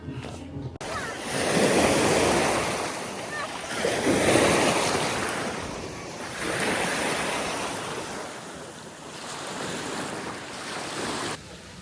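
Sea waves washing onto a beach in Greece, a close, continuous surf roar rising and falling in slow repeated swells with wind rumble on the microphone.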